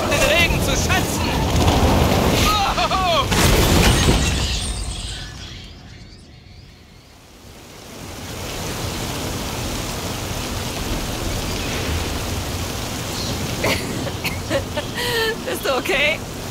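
Rain and a thunderstorm in the racing game Forza Horizon 5 on the Tulum coast, with a steady broadband downpour that swells loud, dips briefly and returns, while voices talk over it.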